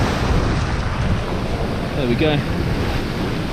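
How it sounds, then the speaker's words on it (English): Rough, choppy sea churning under strong wind on a cold night at Eastbourne beach in East Sussex, a steady roar of surf and wind buffeting the microphone, with someone speaking briefly near the end. "There's a nice chop to the sea, churning up quite nicely."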